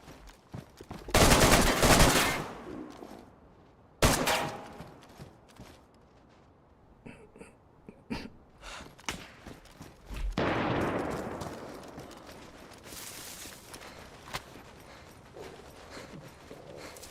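Video game gunfire: a few sharp, loud shots, some in short bursts, spread across the stretch with quieter gaps and faint game sounds between, and no talking.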